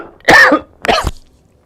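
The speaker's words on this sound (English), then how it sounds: "Sorry, I'm going to cough." A person coughs twice in quick succession close to the microphone: a strong, harsh first burst, then a shorter second one, with no talking.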